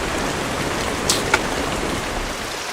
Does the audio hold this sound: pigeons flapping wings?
no